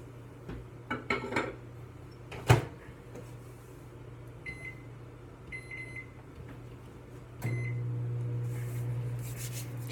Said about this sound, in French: vous allez mettre ça pendant 4 minutes environ au micro-ondes